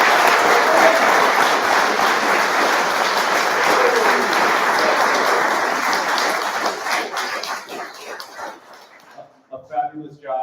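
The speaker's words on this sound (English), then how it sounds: "I think we should give them one more round of applause." An evening crowd at a business boot camp pitch competition gives a loud, sustained round of applause that thins and fades after about seven seconds, leaving a few scattered claps and brief talking at the end.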